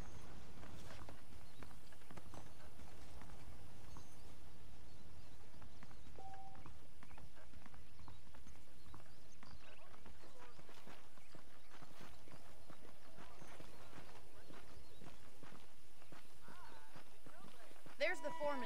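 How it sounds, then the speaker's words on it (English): Horses in Red Dead Redemption plod with a steady clip-clop of hooves, moving between a walk and a quicker gait, heard beneath game ambience and background voices. "The horses are saddled up over here."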